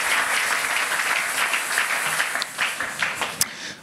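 Church congregation applauding during a Sunday service, a dense burst of clapping from many hands that fills the room and gradually thins out.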